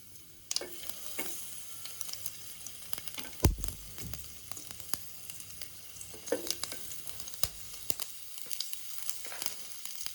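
Garlic cloves and dried red chillies frying in hot oil, a steady crackling sizzle with sharper pops and a few louder stirring scrapes, close and alone.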